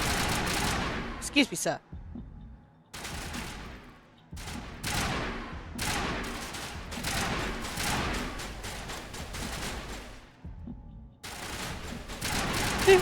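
Video game gunfire in repeated bursts, several rapid volleys of loud, close shots separated by short silent gaps, with a voice briefly speaking partway through.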